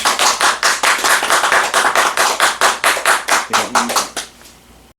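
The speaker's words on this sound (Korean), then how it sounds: "박수 좀 쳐." A small group claps together in a calligraphy class, producing loud, close, rhythmic claps in a steady beat for about four seconds before stopping abruptly.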